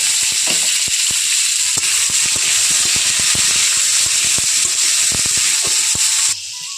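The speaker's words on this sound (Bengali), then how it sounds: "ডুমো ডুমো করে কেটে রাখা আলুগুলো এখন অ্যাড করে দিচ্ছি আলুগুলোই এর মধ্যে আমি ভেজে নেবো" Diced potatoes fry in hot oil in a pan for a vegetarian cabbage ghonto, giving a loud, continuous sizzle with scattered sharp crackles and spatters, dropping in level just before the end.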